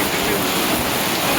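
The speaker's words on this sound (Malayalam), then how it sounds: "നാട്ടിലെ നല്ല മഴയാണ്." Heavy rain falls steadily on a Kerala home in a continuous, dense hiss that fills the whole short stretch without a break, and no one speaks over it.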